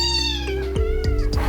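A tiny abandoned kitten gives several loud, close, high-pitched meows in quick succession, each cry wavering and sliding in pitch.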